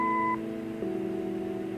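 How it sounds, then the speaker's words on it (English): An answering machine in the video game Kathy Rain sounds its beep, a short bright electronic tone followed by a lower steady hum of the line, clean and close with no talking. "Leave a message after the beep."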